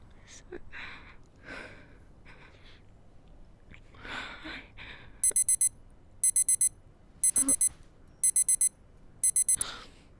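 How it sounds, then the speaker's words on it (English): A phone-style alarm rings in four short repeating bursts of rapid electronic beeping, loud and clear, with someone speaking softly and gasping between and around the rings. "I assume that is your last call alarm."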